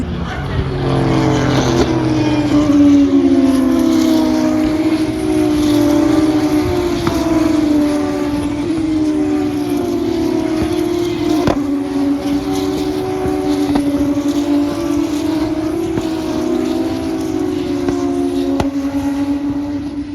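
High-pitched Formula 2 race car engines whine past one after another at the British Grand Prix, their tones rising and falling continuously over a loud background roar.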